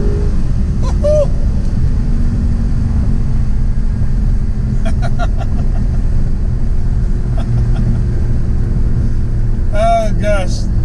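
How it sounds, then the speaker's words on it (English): An Audi R8 Spyder engine roars steadily at high revs throughout, loud and close, with brief squeaks and voices popping up over the drone. "Oh gosh, the car is high revving"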